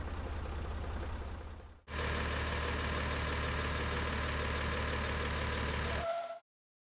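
A cartoon blue tractor's engine idles with a steady low knocking rumble; it briefly dips, restarts louder, runs evenly for several seconds, then cuts off abruptly into silence.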